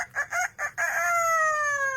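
A parrot mimics a rooster's crow: four quick clucking syllables followed by a long, drawn-out falling cry, loud and close with no other sounds.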